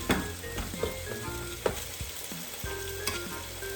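Vegetables and beef pieces browning in a stock pot, a close continuous sizzle with occasional spatter pops and a few scraping stirs, no talking.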